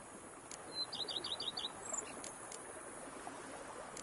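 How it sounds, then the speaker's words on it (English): Game-world birds in The Witcher chirp in a short burst of several quick, high tweets, moderately near, with a few faint calls after, over a steady bed of ambient outdoor noise. "Bees buzzing, birds chirping."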